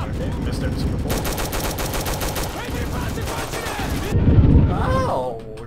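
Rapid automatic gunfire rattles in dense bursts in the Roblox game Recoil, followed by a louder heavy burst near the end, with a voice talking briefly over it.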